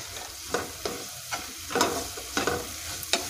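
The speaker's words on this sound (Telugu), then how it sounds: "తర్వాత దీంట్లోనే ఇలాచీ పొడి వేసుకొని మిక్స్ చేసుకోవాలి." Cardamom powder being stirred into a honey and coconut mixture in a pan for sweet rice rolls, giving repeated scraping strokes about every half second over a soft, steady sizzle, close and moderately loud.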